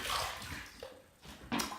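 Shaving brush swished and rinsed in water in a sink bowl, wet splashing bursts with a brief lull in the middle, close and fairly quiet, no talking.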